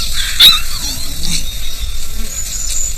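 Wild pups whining and squealing, with one sharp high yelp near the start followed by softer intermittent whimpers over a low background rumble.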